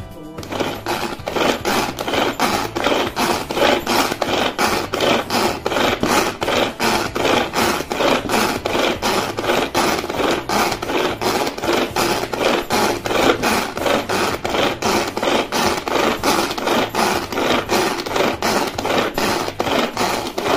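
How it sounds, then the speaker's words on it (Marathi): A manual pull-cord vegetable chopper cutting onion, its blades whirring in a steady, fast, rasping churn, loud and close and continuous throughout, with no talking. "जर तुम्हाला अजून फाईन चॉप पाहिजे असेल तर अजून 2-3 रोटेशन घ्यायचे"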